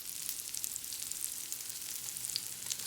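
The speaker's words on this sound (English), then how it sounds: "Now I'm pushing it down because I want to make sure that this entire steak is flat on the surface" Steak searing on a flat griddle, a steady close sizzle and crackle of frying meat with fine spitting pops throughout, no voices.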